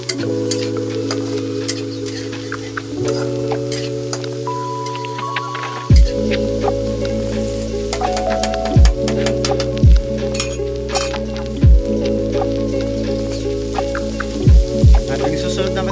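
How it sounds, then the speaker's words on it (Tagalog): Soy beans and snow cabbage with egg stir-frying in a pan, giving a steady close sizzle with a series of sharp spatula scrapes and clinks against the pan. "halo-halo lang natin ito. Hanggang sa maluto siya."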